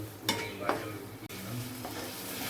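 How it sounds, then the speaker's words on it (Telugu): Tomato and raw prawns fry in a pan with ginger-garlic paste, giving a steady close sizzle broken by a few sharp scrapes of a spoon stirring through the mixture. "టమాటా పచ్చిరొయ్యలు కూడా వేగినాయి"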